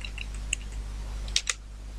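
Typing on a computer keyboard during a CSS coding lesson: a few sparse, quiet clicks, with a short burst of keystrokes near the end, over a low steady hum.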